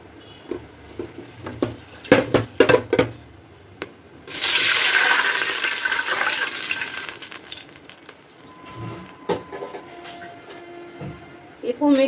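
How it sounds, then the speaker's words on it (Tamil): Water goes into a hot pan of ghee with cardamom, cinnamon and cloves for Tamil sheer khurma, setting off a loud rushing sizzle that follows scattered clinks and stirring, then fades into softer bubbling. "இப்போ வந்து வாட்டர் சேர்த்துக்கலாம்."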